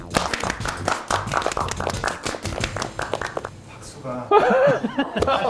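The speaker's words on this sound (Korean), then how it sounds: "우리가 박수 왜 쳤지?" Several people in a small talk-show studio clap briskly with chuckles and laughter mixed in; the claps fade after a few seconds and speech follows.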